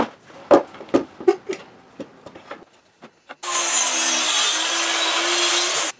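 A hand saw cuts a 45-degree bevel in a wooden board for a ramp, steady rasping strokes running loud and close after a series of sharp knocks and taps.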